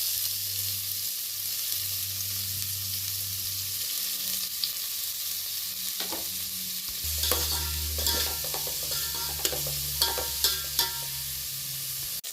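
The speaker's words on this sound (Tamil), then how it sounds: "இப்போ வெட்டி வச்சிருக்க வெங்காயம் சேர்த்துக்கலாம்." Chopped onions hit hot oil in a pan, sizzling and frying steadily while a spoon stirs and scrapes them, with a low hum running through and several sharp clicks toward the end, close and alone with no talk.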